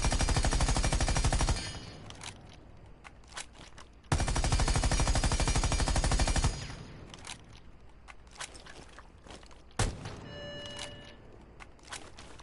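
Automatic gunfire with a compensator-equipped weapon in Rainbow Six Siege X: two long, loud, rapid sustained bursts of a couple of seconds each, followed by scattered single shots and clicks.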